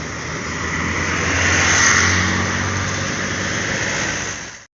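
A bus engine runs steadily at the terminal before departure, a loud, close, continuous rumble that swells slightly midway and cuts off abruptly at the end, with no talk over it.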